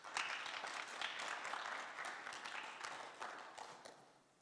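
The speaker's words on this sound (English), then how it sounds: "Let's give all of our participants a big round of applause." An audience applauds pageant participants at a Miss Indian show, a sustained wash of clapping from many hands with brief louder swells over several seconds.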